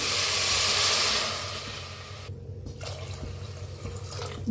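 Water pours steadily into a pan of sprouted moth beans with a broad rushing hiss that gradually settles into quieter gurgling and dripping.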